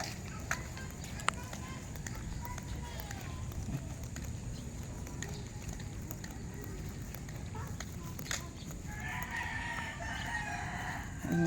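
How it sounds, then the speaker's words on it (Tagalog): A rooster crows at about seven in the morning in a rural village, a distant call rising near the end over steady low background noise, with scattered soft clucks and thumps. "Tumilaok yung manok."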